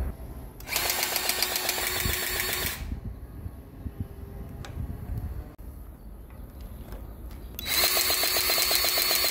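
A power impact tool tightens bolts on a CAT 140M grader's hydraulic cylinder in two loud, close, rattling bursts, one near the start and one near the end, with quieter workshop clatter between them.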